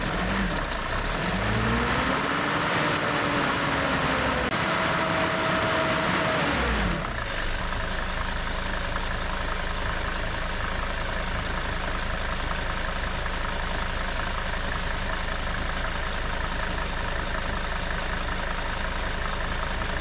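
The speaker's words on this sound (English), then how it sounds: "I'm going to turn this water off, just going to give it a bit of a rev" A Mercedes 410D van's diesel engine turns over and idles, its note rising and falling as it is revved, then settles into a steady loud idle during a coolant flush.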